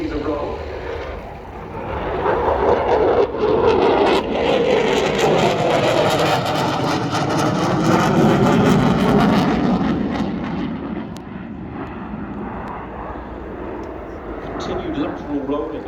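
At the RIAT air show a display aircraft roars overhead while flying aileron rolls, its engine swelling loud and then fading away, heard under a commentator's voice over the public address.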